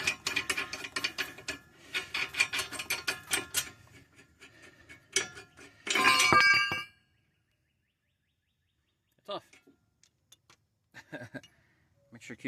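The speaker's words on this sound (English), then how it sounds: "I decided to use a wrench so I don't make too much noise" A hand wrench clicks and ratchets in quick runs, loosening nuts during a brake job on a 2010 Mercury Mariner, followed by a louder metallic clatter and a few scattered faint knocks after a pause.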